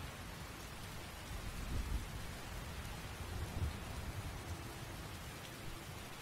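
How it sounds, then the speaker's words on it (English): A Skyrim thunderstorm: steady rain hisses across the ground while low thunder rumbles swell and fade twice, a constant wash of weather noise with no voices. "in a lightning and thunderstorm."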